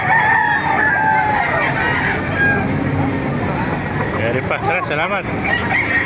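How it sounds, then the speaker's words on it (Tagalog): A rooster crows nearby among chickens, with someone talking over the steady background of the yard. "Pakita ko lang yung mga manok dito."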